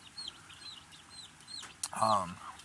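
Young chickens and small chicks peep and cluck in a brooder, several high chirps in quick succession followed by a louder, closer cluck near the end.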